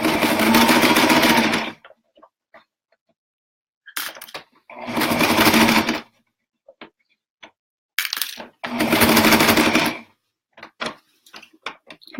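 A sewing machine runs through two layers of fabric for a slouchy toy sack in three loud, close bursts of steady whirring, with quiet clicks and handling noises between them.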